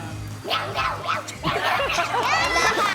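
A person on a game show imitates an angry cat with a series of short, strained yowls and hisses, close and loud, rising into a longer drawn-out cry.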